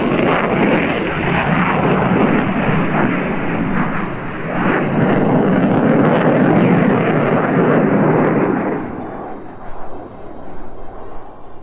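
SAAB jet turning in front of spectators at an air show display, loud roaring engine noise that holds strong, then fades away toward the end.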